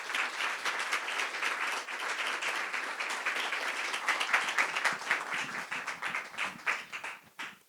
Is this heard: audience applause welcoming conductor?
yes